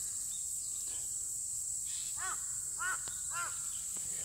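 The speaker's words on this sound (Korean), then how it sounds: "까마귀 소리 무서워." Crows caw in short harsh bursts, three or four calls at mid distance over an outdoor lawn, with a steady high insect buzz throughout and no talking.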